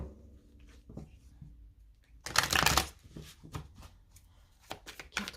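Tarot advice cards being shuffled by hand, soft riffling and slapping in irregular bursts with a louder flurry midway, close and quiet with no talk.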